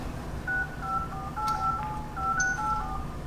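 A telephone number is dialed at a school office, a quick series of clear touch-tone beeps over a steady background hum.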